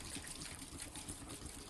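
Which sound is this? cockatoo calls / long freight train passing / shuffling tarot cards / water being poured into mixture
water being poured into mixture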